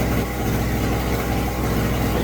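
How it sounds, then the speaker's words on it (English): Pulsar 1200W portable generator engine running hard under full electrical load, a loud steady droning hum with constant vibration and no pauses. "Hear how it revs up when I go to use the power. The motor revs up."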